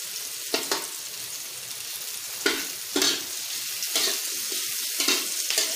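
Onions dropped into a hot pan for adobong kangkong with tokwa, giving a steady sizzle broken by a few sharper stirring bursts and faint clatter. The sound is moderately close, and nobody speaks.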